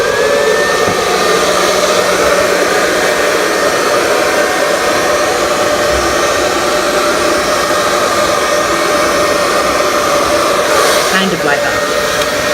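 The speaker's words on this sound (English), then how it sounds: "I'm going crazy with my hairdryer" A hair dryer blows continuously at close range, a loud steady whooshing hum with a slight shift in pitch near the end.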